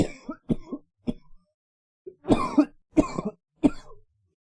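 A run of dry, hacking coughs nearby, first a few scattered single coughs, then a cluster of heavier, rougher ones in quick succession.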